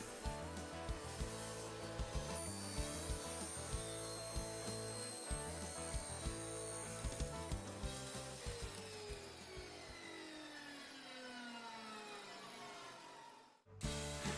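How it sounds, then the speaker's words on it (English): Steady, continuous sawing through a piece of acrylic, a dense rasping buzz with fine rhythmic strokes that fades and stops abruptly near the end. "I cut a little piece off with that acrylic"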